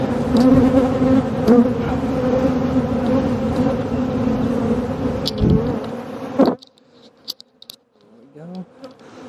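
Honeybees buzzing densely around a hive during installation, a loud continuous close drone for several seconds that cuts off abruptly, followed by sparse light rustling and handling noises.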